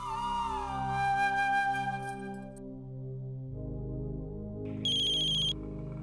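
A phone ringing on an outgoing call in an Indian TV drama household: steady tonal ring with a short higher-pitched beep burst near the end, sitting over background music, with no talk.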